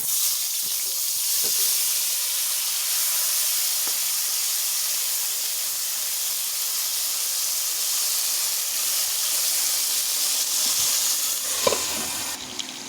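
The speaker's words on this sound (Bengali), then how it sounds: "মাছের ঝোলের জন্য মাছের যে আলু কাটা ছিল সেই আলুটা ভেজে নেব" Cut potatoes frying in hot oil for a village-style rui fish curry, a steady hissing sizzle held for several seconds with a few faint clinks, no talking.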